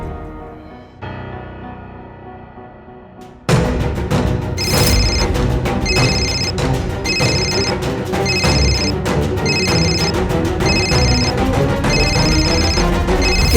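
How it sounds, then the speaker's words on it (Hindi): A telephone bell rings indoors in loud, regularly repeating bursts, starting after a quieter opening and continuing steadily to the end. "अभी घंटी की आवाज भी बंद हो गई और फोन तो चालू है।"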